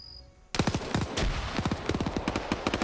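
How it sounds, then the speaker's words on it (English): A PKP machine gun firing in a Cold War combat video game opens up after a brief quiet start, pounding out loud, rapid bursts of closely spaced shots that keep hammering on, with other gunfire mixed in. "Lobby getting lit up by a PKP"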